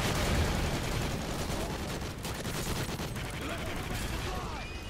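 Continuous, dense gunfire from a minigun in a co-op shooter game's Extinction mode, a loud sustained barrage of rapid shots filling the whole stretch with no pause.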